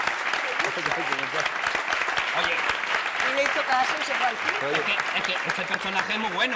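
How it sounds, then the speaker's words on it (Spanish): Studio audience applause for Diego on a television comedy show, a continuous bed of clapping under someone speaking over it, with laughter-like voices mixed in. "Un aplauso, por favor, para Diego."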